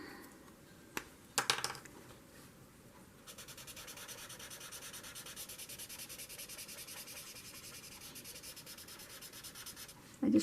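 A marker pen scrubs steadily across paper while coloring a doodle, a soft continuous rasping stroke after a few brief taps, close and quiet.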